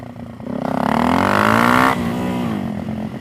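A Suzuki DRZ 400SM motorcycle engine revs up on throttle alone, its rising harmonic whine climbing to a peak, then settling back toward idle over a few seconds, loud and close with no voices.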